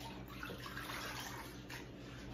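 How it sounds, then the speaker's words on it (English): Steady rushing and sloshing of water as a spin mop is dunked into a bucket, with a continuous close wash of liquid and no talking. "you dunk it into the water"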